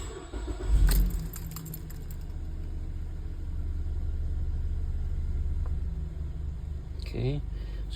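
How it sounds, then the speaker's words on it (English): A car is started ahead of an OBD2 scanner check: a brief jangle of keys and the click of the ignition, then a steady low engine rumble at idle that carries on close by, with another short key rattle near the end. "Okay, so I had to start the car."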